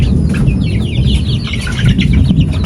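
A young native hen chicken clucks in a rapid, busy chatter over steady low background noise, close and continuous, with possible wing flutters and no speech.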